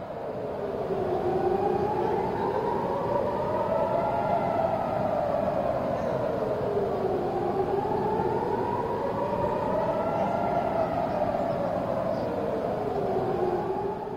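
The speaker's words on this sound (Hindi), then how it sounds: "आप सायरन की आवाज सुनिए।" Air-raid warning siren wailing during a rocket attack in Tel Aviv, a loud, continuous rising-and-falling tone that cycles slowly and steadily throughout, with no voices over it.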